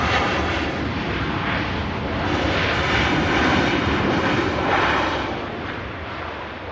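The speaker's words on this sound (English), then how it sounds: "The Hainan A330 is also on the move for Beijing, along with a Virgin Atlantic A330 for Atlanta." Airbus A330 airliners taxiing at Manchester Airport, a steady broad roar of jet engines holding for the whole stretch with a slight swell in the middle, fairly close and with no voices over it.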